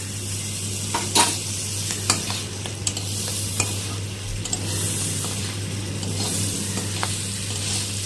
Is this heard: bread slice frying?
yes